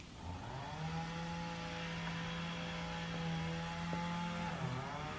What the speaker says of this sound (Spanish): Me disculpen el ruido, pero están cortando la yarda por ahí.